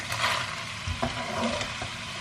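Minced meat sizzles and crackles steadily as it browns in a hot pan, with occasional stirring scrapes close by.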